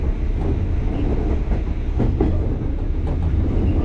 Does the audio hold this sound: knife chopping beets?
no